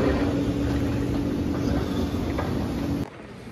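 Steady rumbling and rattling inside a moving train car in Austria, with a faint high squeal, then the noise suddenly drops to a quieter hum.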